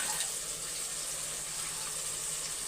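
Water is poured into a pot over soaked white chickpeas, giving a steady, close hissing gush that runs throughout with no talking.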